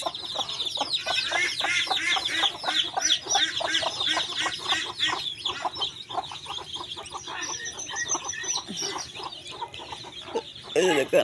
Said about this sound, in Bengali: মুরগি খুব চিল্লাচ্ছে আর বাচ্চাগুলোকে নিয়ে